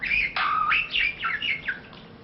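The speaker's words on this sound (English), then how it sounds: "I'll strangle that bird, I really will." A bird sings in a short series of bright, sliding chirps, about six close notes over two seconds, heard alone with no talk, in the middle of a radio drama scene.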